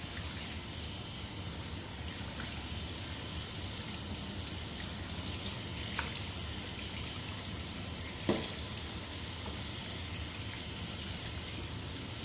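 Water draining off raw chicken for jerk chicken into a bowl at a kitchen sink, a continuous soft trickle and patter with a couple of faint knocks.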